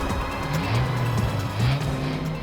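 A police car swings around sharply in a tense CID crime-drama scene, its tires squealing in a drawn-out, wavering whine over a steady, close engine rumble, with no voices.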